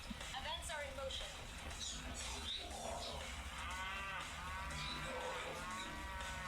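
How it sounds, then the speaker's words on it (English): Cows mooing in the Universe at War strategy video game, several low drawn-out moos rising and falling in sequence over a busy game background, fairly faint, with someone talking over them. "some beautiful cows we've got over here"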